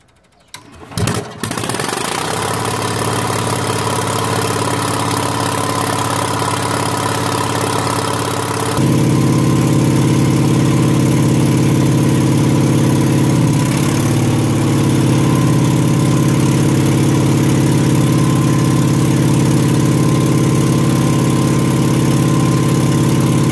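A 4KW Onan generator cranks and catches, then runs as a loud, steady, close engine drone, with its tone shifting to a heavier hum partway through as it keeps running without talk.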